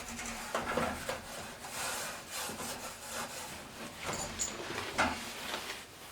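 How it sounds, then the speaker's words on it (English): Wire wool rubbed over the painted surface of a metal radiator, a steady close scratchy scrubbing with repeated back-and-forth strokes and no talking. "Once you wire wooled it off,"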